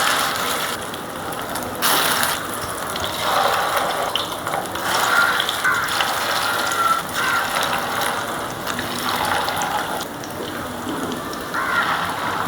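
Shrimp and fish roe lentil fritters sizzle in hot oil, with a continuous dense crackling and spattering held at an even loudness throughout.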